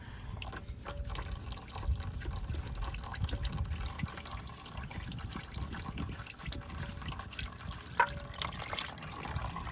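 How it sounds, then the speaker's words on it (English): Motor oil drains from the filter area of a Nissan 370Z into a pan, a steady, fairly quiet liquid trickle and patter lasting throughout with a faint background hum. "Just spin it off. See it starting to trickle down."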